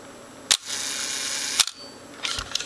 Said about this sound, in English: Fire the shutter and we can see